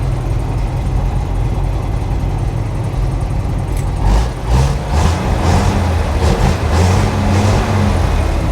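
The engine of a 1957 REO dump truck runs loud and close, with a steady deep rumble and a slight surge partway through; no voices.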